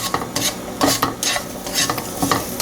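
Mushrooms sizzling in a frying pan while being stirred, with bursts of scraping and clatter from the spoon over a steady close sizzle.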